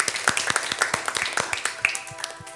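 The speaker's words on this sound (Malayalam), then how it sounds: "ഈ മാലാഖമാരുടെ ഒരു ബിഗ് ക്ലാപ്പ് നിങ്ങൾക്ക് തരികയാണ്" A group gives a round of applause in a studio setting, with irregular sharp claps from several hands, moderately close, spread across a couple of seconds and thinning out at the end.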